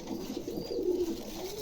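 Two pairs of pigeons coo softly and close by, a low rolling call that swells briefly in the middle of a quiet moment with no talk.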